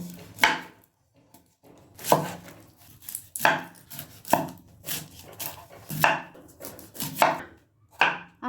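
Onions chopped finely with a knife on a board: a series of close, crisp knocks, about ten irregularly spaced strikes with short gaps of quiet between them, no talking.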